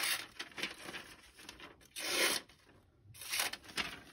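A Spyderco Para 3 knife with a K390 steel blade slices through paper in several bursts of crisp, close, dry rasping strokes with brief pauses between them.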